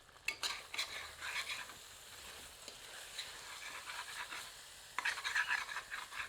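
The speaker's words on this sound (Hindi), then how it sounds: "भूनने से चिकन में उपस्थित घी पृथक हो जाएगा और इसकी रंगत बढ़ जाएगी।" Chicken being roasted in ghee for a Kundapur-style ghee roast, with a spoon stirring and scraping in the pan over a soft sizzle, in repeated bursts that grow busier toward the end.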